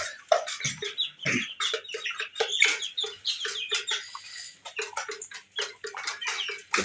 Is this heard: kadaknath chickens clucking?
yes